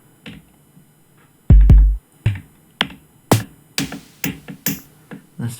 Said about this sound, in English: Now with the LXR, if we load an initialized kit,